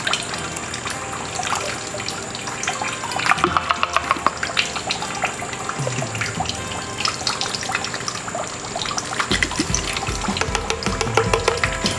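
Water sloshes and pours off while panning for gold, a continuous close splashing and trickling with irregular drips and swirls, growing busier toward the end.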